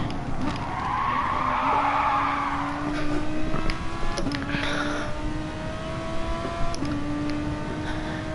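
Race car sliding sideways through a corner in GT Sport, with sustained tire skidding over a steady engine drone, the squeal surging early then easing as the engine note rises and shifts through gears.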